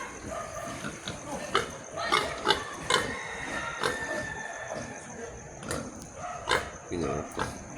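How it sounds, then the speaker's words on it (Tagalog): Pigs grunt and squeal among houses in a flooded village, in irregular bursts under someone talking, with dog-like yips and whimpers mixed in. "May mga baboy diri oh."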